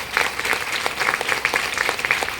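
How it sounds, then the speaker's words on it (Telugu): An audience at a ceremony claps briefly, a thin, moderately loud patter of individual handclaps with distinct slaps standing out. "గట్టిగా ఒకసారి చప్పట్లు కొట్టండి"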